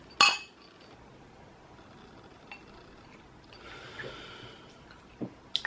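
Whiskey glasses clink once in a toast, a single sharp, close chime at the start, followed by a quiet room with faint rustles and small taps.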